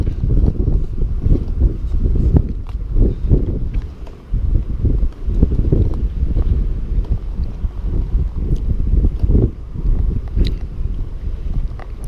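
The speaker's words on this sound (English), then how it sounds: "There's a heck of a wind blowing through the rigging in this yacht." Strong wind buffets and roars around a wooden-built yacht's rigging on the Carlingford Greenway in April, a continuous low gusting rush with rustling surges and no voices.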